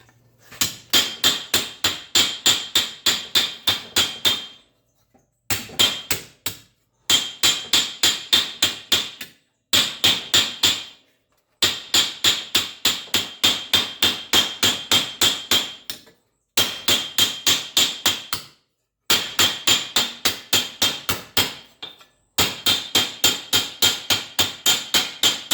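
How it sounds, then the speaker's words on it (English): A ball peen hammer stretches sheet metal on a workbench in quick bursts of sharp, ringing metallic blows. The strikes come in rapid runs separated by short pauses, loud and close, with no talk. "Hammering it right onto the bench with the ball peen."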